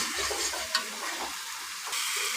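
Fish curry spice paste sautéing with a little added water in a pan for a thin sand fish curry, a steady close bubbling sizzle with light stirring scrapes and a brief clink, no voices.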